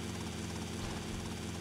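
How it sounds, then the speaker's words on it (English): A helicopter comes in to land in GTA Vice City, its rotor producing a constant dense, loud whirring roar with a steady low throb throughout. "So this is really convenient that we have the helicopter."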